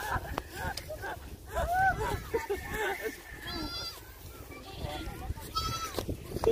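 Goats bleat repeatedly, several wavering calls overlapping with people talking nearby, outdoors and at moderate loudness.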